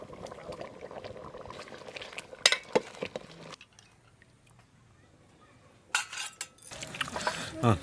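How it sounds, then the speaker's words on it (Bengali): Mutton curry broth bubbling on a stove, a soft steady simmer with occasional clinks of a utensil against the pot and brief louder stirring or scraping near the end. "এবার অনেকক্ষণ ধরে জাল দিয়ে দিয়ে ঝোলটাকে কমাবো"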